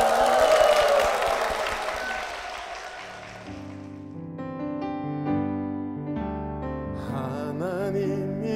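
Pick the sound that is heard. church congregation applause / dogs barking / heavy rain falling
church congregation applause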